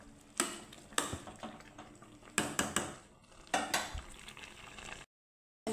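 A metal spatula scrapes and knocks mango pulp around a cooking pan in a handful of sharp, irregular strikes and scrapes, separated by quiet gaps, ending in silence.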